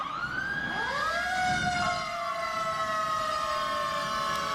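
Police sirens from the River Grove Police Department wail loudly at the 2021 Chicago Columbus Day Parade, several overlapping tones sweeping up and then holding a sustained, piercing pitch throughout.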